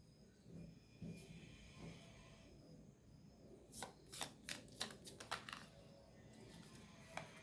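A deck of tarot cards being shuffled close up, a soft riffle at first and then a quick run of crisp, sharp card flutters, fairly quiet with no talking.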